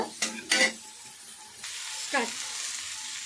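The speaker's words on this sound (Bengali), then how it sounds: "এবার নাড়াচাড়া করিয়ে এগুলো আমি কষিয়ে নিচ্ছি, সয়াবিন আলু কষিয়ে নিচ্ছি" Soybean chunks and potato sizzle in hot oil in a pan while a spatula stirs them, with a few sharp scraping strokes early on, then a steady close frying hiss.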